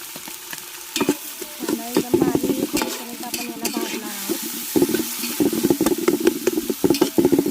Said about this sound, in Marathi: कांदा लाल शिलावर थोडासा भाजत आलेला आहे आपण आता यातच टोमॅटो टाकून भाजून घेऊया त्याला